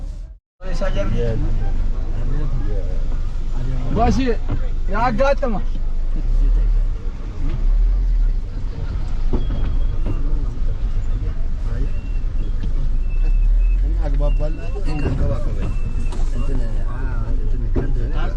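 Steady engine rumble and road noise from inside a crowded minibus travelling toward Addis Ababa in Ethiopia, continuous and fairly loud throughout, with passengers' voices and chatter mixing in over the drone.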